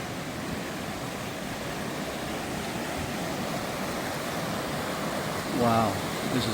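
A river along the Colorado Trail near Lost Creek rushes in a steady, broadband wash of flowing water, with a brief voice rising near the end.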